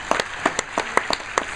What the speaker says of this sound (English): Nick, a round of applause.